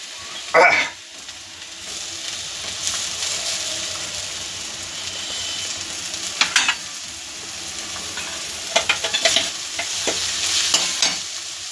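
Grated sweet potato sautéed in ghee in a pan, a continuous close sizzle with bursts of stirring scrapes and a louder clatter near the start, no voices.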